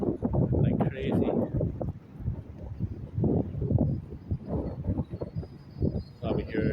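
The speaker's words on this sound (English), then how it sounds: "Probably hear in my speaker or my microphone too. Yeah, it's pretty windy out here." Strong outdoor wind buffets the microphone in rumbling, uneven gusts on a blustery day, with bursts of low roar rising and falling throughout.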